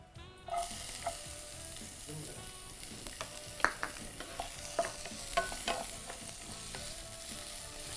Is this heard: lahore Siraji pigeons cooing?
no